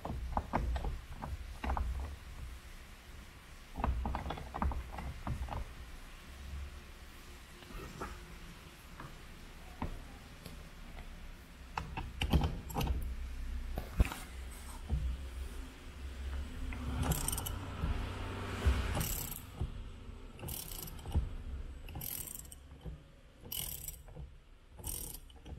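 A steering wheel puller tightens against its bolt to force a car steering wheel off the column, giving repeated close mechanical clicks, ratcheting and metallic knocks that build into denser clanks toward the end.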